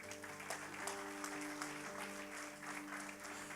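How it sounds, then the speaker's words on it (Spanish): Applause from a church congregation during a Spanish-language service, a faint, steady wash of many hands clapping over a sustained low musical drone, with no speech. "Le damos un aplauso a nuestros ayudantes."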